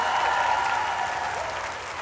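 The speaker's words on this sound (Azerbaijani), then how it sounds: "Gəlin alqışlayaq ölkənin ən güclü səslərini" A studio audience at a televised singing talent show applauds loudly and steadily, a dense wash of clapping that stays close and unbroken the whole time, with no talking over it.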